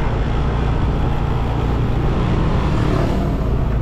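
Steady roar of a traffic jam on a street in Legian, Bali, with car and motorbike engines rumbling close by at constant loudness and no voices.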